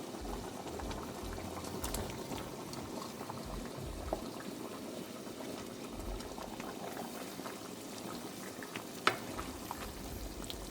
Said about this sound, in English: we'll be adding our fried meatballs